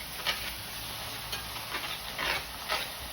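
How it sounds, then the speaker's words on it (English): Meat browning in a pot for spaghetti sauce is stirred with soft, repeated scraping strokes over a faint steady sizzle, close but quiet, with no talking. "Give it a good stir there."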